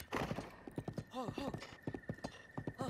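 A horse gallops in Zelda Breath of the Wild, with quick rhythmic hoofbeats, a couple of whinnies and a steady tone underneath, clear and close.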